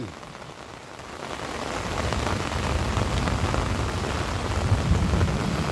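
Heavy rain pours down on a wet day near a river, a dense, steady roar of drops on surfaces that builds gradually over the first two seconds and then holds at a constant, enveloping level.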